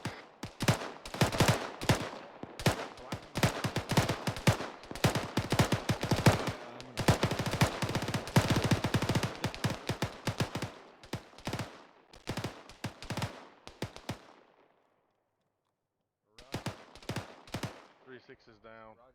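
Gunfire during a military operation in a video game: dense bursts of automatic fire and rapid single shots, loud and close, continuing in clusters before a brief silence and a final few shots.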